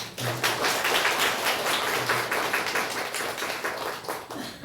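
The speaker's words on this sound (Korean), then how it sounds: "이제 그래 박수도 쳐주시고." A Korean Presbyterian congregation applauds newly baptized members at a baptism ceremony, a soft, continuous clatter of many hands clapping that stays even throughout, with faint tonal hints in the background.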